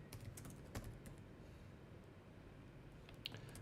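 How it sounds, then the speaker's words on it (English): Typing a message on a computer keyboard: a quiet, steady patter of soft key clicks with a few slightly louder taps, close by and heard alone. "Now I can type a message."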